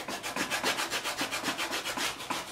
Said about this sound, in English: This is a paint stick that I went to the hardware store and got, and I sloped it off on the back edges and glued sandpaper to it.